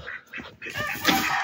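Ducks brooding in a farmyard give a few short quacking calls in quick succession, fairly close and moderately quiet, with no talking.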